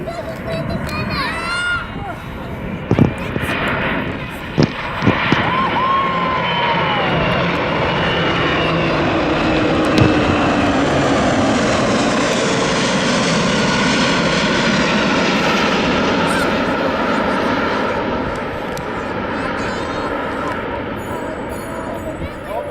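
Aircraft engines drone loudly and steadily as Silver Falcons aerobatic aircraft fly in formation with a South African Airways airliner, a sustained roar with brief knocks near the start.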